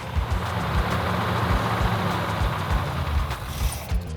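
A rebuilt Mopar engine runs steadily while breaking in, a loud continuous rumble with uneven low pulsing and a light ticking from lifters that are not yet quiet.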